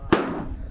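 A single sharp rifle shot at an outdoor firing range on an army post, one close, loud crack that decays into a short ringing tail, with faint background noise around it.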